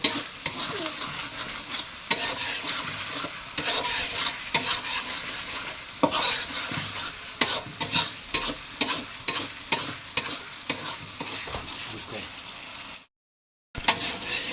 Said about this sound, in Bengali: তেল বের হয়ে গেছে আমরা এখন চিংড়ি মাছগুলো দিয়ে দিলাম দেশি চিংড়ি